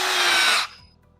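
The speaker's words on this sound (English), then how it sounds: "grab my stability handle and I'm good to just crank it back until it reaches the proper tension" A ratcheting band tensioning tool is cranked to proper tension on a band and buckle install, giving a loud steady whirring grind that cuts off abruptly, followed by a faint low rattle.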